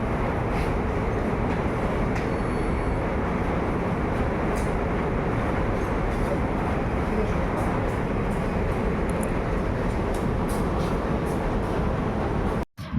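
Kolkata Metro train at a station platform, a loud continuous rumbling roar of the moving train with faint squeals, ending abruptly.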